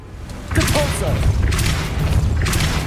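A Depulso spell cast in Hogwarts Legacy: a deep booming thud bursts in at about half a second, followed by rushing whooshes and rumbling impacts, loud and close, with speech-like game sounds layered over it.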